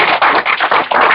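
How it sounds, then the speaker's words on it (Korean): An audience at an AI lecture gives a short burst of applause, dense, rhythmic clapping filling the room with no talk over it. "제가 이렇게 떠드는 거에 공감하면 박수를 부탁드립니다"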